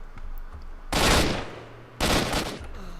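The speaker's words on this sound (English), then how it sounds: "Oh, shot him out the window." Two loud bursts of automatic gunfire from the video game S.T.A.L.K.E.R.: Shadow of Chernobyl, each roughly a second long, separated by a brief quiet gap.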